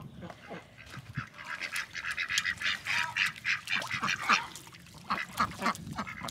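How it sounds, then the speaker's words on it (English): Welsh Harlequin ducks quack repeatedly in a flock at close range, their overlapping calls forming a busy, continuous chatter with no talking. "these are Welsh Harlequin ducks"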